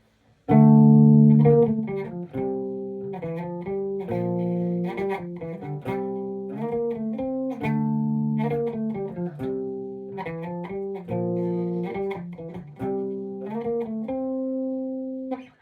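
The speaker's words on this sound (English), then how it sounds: "The whole intro is just bass at the start" A distorted, effects-laden bass guitar plays a choppy, repeating riff of low notes, loud and steady throughout with no voices.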